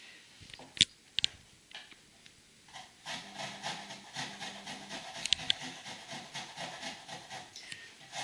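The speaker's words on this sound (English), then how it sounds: "I've peeled the ginger. I'm now going to start grating it, and just taking a bit of care with the grater." Peeled ginger rubbed against a kitchen grater, soft repetitive scraping strokes in a quick steady rhythm, faint and close, with a few light knocks early on.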